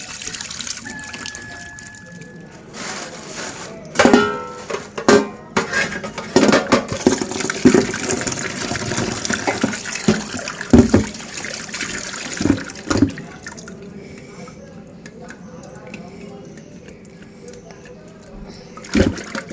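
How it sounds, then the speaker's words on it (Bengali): Large bhola fish being washed in water, splashing and running tap water with intermittent sharp knocks and sloshes, close by, while people talk at times. "এই যে বন্ধুরা ভোলা মাছ হ্যাঁ মাছটা বেশ বড়ো সাইজের মাছ আছে তো চলো মাছটা আমি ধুয়ে নিই"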